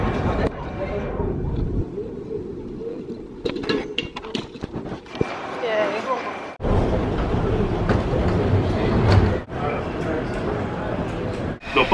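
Steady rumble and rattling inside an airport train bound for Jamaica Station, with clacks and brief jolts throughout and voices murmuring underneath.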